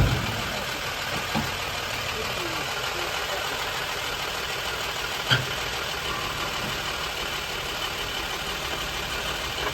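A 1959 Chevy truck engine idles steadily and smoothly with a low even rumble and no ticking, heard close and continuous with one brief click partway through.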